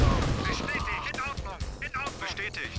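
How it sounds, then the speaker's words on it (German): Gunfire and explosive bursts in the strategy game C&C Red Alert, sharp repeated shots and blasts over game effects and background music, with someone talking through part of it. "Oh, hier werde ich auch beschossen."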